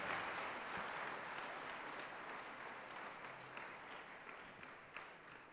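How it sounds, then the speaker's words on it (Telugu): A church congregation applauding during a Sunday healing prayer service, broad sustained clapping from many hands that slowly thins out, heard from a distance and fairly faint. "గట్టిగా చప్పట్లు కొడదాం ఒకసారి."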